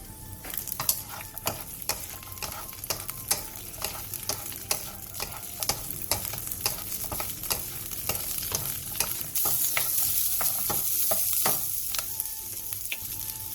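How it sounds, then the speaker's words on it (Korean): Garlic and green onion fry in a spoonful of sesame oil over high heat, a steady sizzle with repeated sharp scrapes and clicks of stirring throughout, the hiss rising louder near the end. "팬에 참기름 1스푼을 두른 뒤 마늘과 대파를 넣고 센 불에서 살짝 노릇하게"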